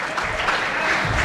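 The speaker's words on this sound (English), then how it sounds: "it's okay for you to clap" Brief audience applause at a dinner celebration, a steady wash of clapping from a crowd heard at moderate distance.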